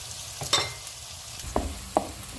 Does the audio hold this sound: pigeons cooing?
no